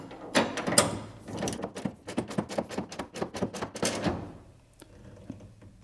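A wrench works down a 3/4 inch lock nut on a Monte Carlo bar, giving a quick run of close metallic ratcheting clicks that slows and fades out toward the end.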